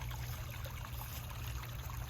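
A babbling brook in a nature park in East Point, Georgia, flows steadily and faintly at a distance, a soft constant wash of water with no voices over it.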